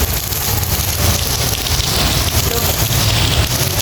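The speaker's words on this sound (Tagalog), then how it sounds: "Lakas ng ulan." Heavy rain pours steadily, a dense continuous hiss with drops drumming on a surface, loud and close throughout.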